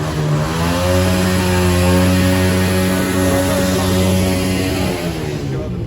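A motorcycle engine revs hard and steadily for several seconds on a town street in Sitpur, Alipur Tehsil, loud and close, with strong harmonic engine tones throughout and no speech.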